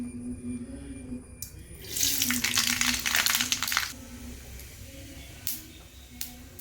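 Mustard seeds are dropped into hot oil in a pan while making sambar. They burst into a loud, dense hissing splutter for about two seconds, which then dies back to a quiet background hum with a few scattered pops.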